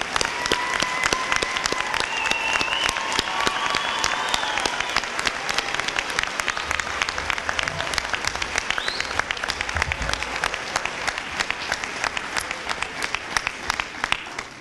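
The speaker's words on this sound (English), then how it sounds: "Ladies and gentlemen, let's give them all one big round of applause once again." The crowd at the Bridgemont CTC 2012 college commencement ceremony applauds in a long, sustained round of sharp, dense clapping that holds steady throughout.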